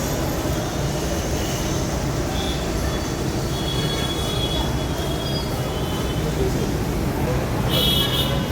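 A train pulls into Uppal station with a steady loud rumble of wheels on rails and faint squeals, heard from on board as the carriage rolls in.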